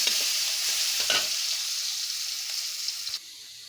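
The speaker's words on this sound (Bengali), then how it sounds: "এই চুলায় ডাল বাগার দিয়ে দিচ্ছি।" Cooked dal tempered in a pan with fried onions: a loud, steady sizzle with a few stirring scrapes, then the hiss drops off sharply near the end as the dal is poured in.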